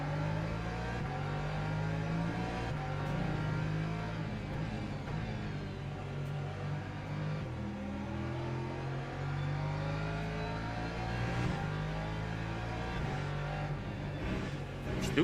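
LMP2 prototype race car engines in a racing video game drone loudly and steadily, with layered revving tones from several cars fighting together, continuous throughout with no talk.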